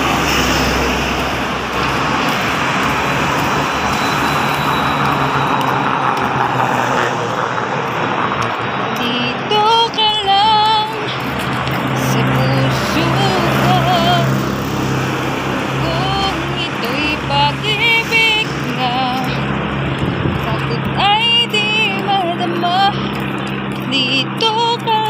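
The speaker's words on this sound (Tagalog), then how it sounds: "Sa tabi lang tayo ng highway maglakad kasi nakakatakot yung mga sasakyan." Vehicles rush past on a highway beside people walking along its edge, a loud continuous roar of engines and tires that swells and fades as traffic passes, with voices talking over it.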